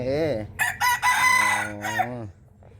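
A loud, close rooster crow with a long wavering cock-a-doodle-doo, rising and falling, then trailing off into quiet.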